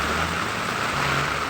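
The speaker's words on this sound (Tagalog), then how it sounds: "Binaba ko itong payong kasi sobrang lakas ng ulan" Heavy typhoon rain pouring down during Typhoon Carina, a dense, unbroken hiss of drops drumming on surfaces close by, with a low rumble underneath and no talking.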